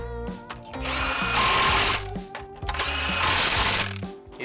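Bolts are tightened on a wheel loader hub while an airless tire is installed. Two loud, sustained mechanical whirring bursts with ratcheting, clattering edges are separated by a brief pause, all close by.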